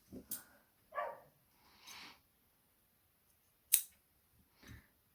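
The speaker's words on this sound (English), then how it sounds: "later you can use scissors to cut." Scissors cutting crochet yarn for a monochrome bag: a handful of short, quiet, separate snips spaced over a few seconds, with near silence between them.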